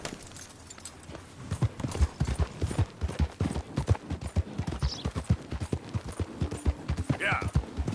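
A horse gallops in Red Dead Redemption, quick rhythmic hoofbeats thudding close and steady throughout, with brief voices and a faint whinny over the top.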